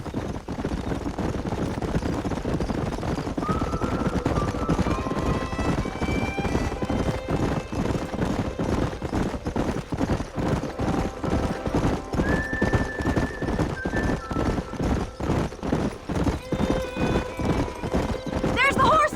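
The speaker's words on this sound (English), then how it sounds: "There's the horses!" Horses run and neigh in the western video game Red Dead Redemption, a continuous fast clip-clop of hooves with repeated whinnies over it while characters shout.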